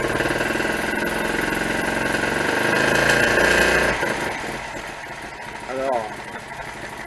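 A Citroën M35 prototype's engine runs close by at a steady idle, then revs up briefly and settles back, while someone speaks French over it.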